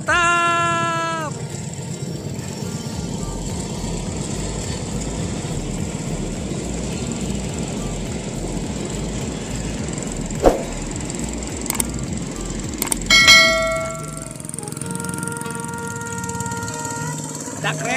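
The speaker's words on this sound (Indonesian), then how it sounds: "Ada kereta, guys." A train passes in rural farmland where a tractor is working. Long horn blasts sound at the start and again near the end over a steady low rumble, with people talking throughout.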